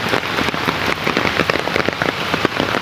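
Heavy rain pouring down and drumming on a surface in a street, a dense, loud, close patter of drops throughout with no talking.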